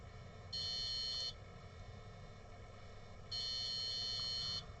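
Two steady electronic beeps from a multimeter on continuity test while probing the logic board of a water-damaged iPhone 6S Plus, each lasting under a second with a pause between, clear over a quiet background hum.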